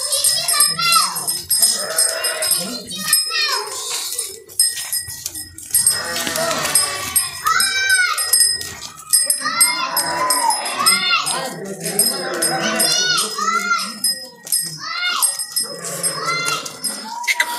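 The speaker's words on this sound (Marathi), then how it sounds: "सब बकरी है ये? हाँ सब बकरी" A herd of goats being bought on a farm bleats in loud, overlapping calls, close by and repeated, mixed with people talking.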